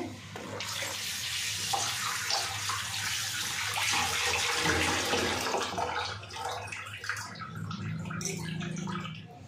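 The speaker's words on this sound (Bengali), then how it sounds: "এবার একটু ধুয়ে নেব বেসিনটাকে ভালো করে।" Tap water runs steadily into a kitchen sink basin as it is rinsed clean after cutting fish, a continuous close splashing flow with shifting spatter throughout.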